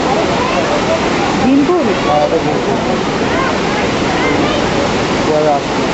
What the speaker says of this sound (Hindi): व्यास गुफा से नीचे उतर के हम सरस्वती नदी के उत्पत्ति स्थान पर पहुंचे।